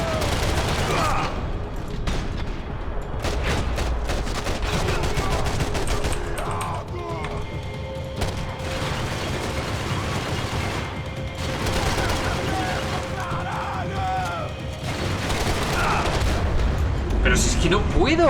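Gunfire in Max Payne comes as dense rapid volleys of shots and impacts in a hotel setting, loud and continuous, with someone talking over it in Spanish.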